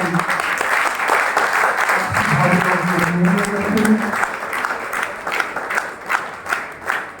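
Crowd applause at an honoring ceremony for visiting scholars at a Jain temple during the Daslakshan festival, loud sustained clapping with voices and cheering mixed in, thinning into scattered claps toward the end.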